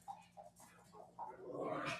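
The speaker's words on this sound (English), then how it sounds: "our dog is having a blast playing with himself, tossing a ball" A dog playing on its own with a bouncy ball, giving a few soft, faint yips and whimpers, followed by a louder rustling scuffle toward the end.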